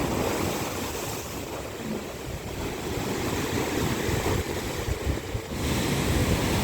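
Strong surf pounds the shore at Mauban, Quezon, on an overcast day, a continuous loud roar of breaking waves with heavy wind buffeting the microphone throughout.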